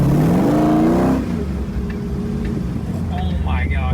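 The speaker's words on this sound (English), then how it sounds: "I've never like felt that type of power in a Jeep. That's the only reason why I want this thing, that V8." A Jeep's V8 engine revs hard and rises in pitch, then drops back to a lower idle-like rumble, loud and close, with people talking over it at the start.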